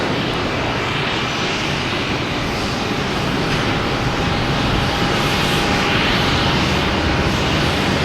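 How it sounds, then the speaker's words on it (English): An Embraer E145 regional jet landing at Boston Logan Airport, its engines giving a loud, steady, broadband roar that holds for several seconds without a break. "E145 coming in from Rochester."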